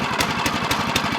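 A Champion 196cc replacement small engine runs right after a pull start, a steady, close, rapid mechanical chugging with an even pulse and no voices.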